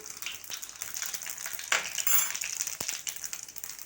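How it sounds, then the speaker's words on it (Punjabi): Cumin seeds roast in hot oil in a pan while a Punjabi-style vegetable dish is being cooked, giving a steady close crackling sizzle with a few sharp pops. "ਤੇਲ ਐਨ ਪੱਕ ਚੁੱਕਾ ਹੈ ਤੇ ਆ ਦੇਖੋ ਚਮਚਾ ਮੈਂ ਪਾਉਂਗੀ ਜੀਰੇ ਦਾ ਜੀਰਾ ਆਪਣਾ ਬਸ ਭੁੱਜਣ ਵਾਲਾ ਹੀ ਆ"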